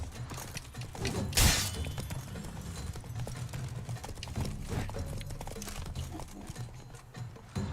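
Steady clip-clopping horse hooves in The Witcher 3: Wild Hunt over a busy game soundscape, with a sharp crash or shatter near the start and continuous background noise.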